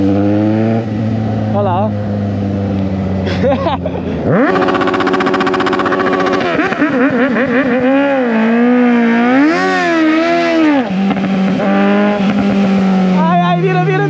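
A straight-piped Suzuki GSX 750 motorcycle revs hard and close, its engine pitch climbing steeply and then wavering as it bounces off the rev limiter. Someone speaks briefly over the engine.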